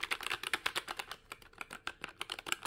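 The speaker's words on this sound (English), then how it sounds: "I got linear keys because I wanted something smoother. But that, oh, doesn't it just sound like," Fast, continuous typing on a NuPhy Air96 mechanical keyboard fitted with smooth linear switches, producing a dense patter of crisp, close keystrokes with no talking.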